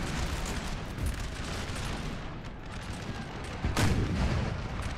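Napoleonic-era battle in a Total War strategy game: a dense, rumbling wash of distant musket volleys and artillery booms rolls on continuously, with a heavier burst near the end.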